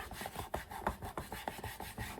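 A sticker being rubbed down onto a wooden gameboard, a quick series of short scratchy rasping strokes in an even rhythm, close and quiet with no talking.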